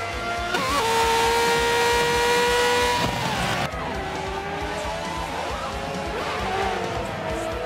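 F1 race cars roar through the Mugello circuit in the Forza video game, with loud sustained engine whine that shifts pitch as the cars accelerate and pass. Race commentary is heard over the engines.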